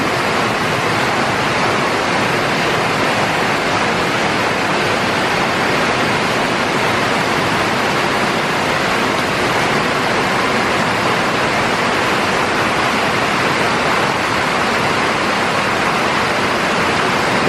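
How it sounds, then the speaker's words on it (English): Heavy rain pounds steadily on a roof during the Easter 2020 storms in Columbus, Mississippi, a loud, dense, unbroken roar that stays constant throughout with no voices. "This rain here ain't no joke."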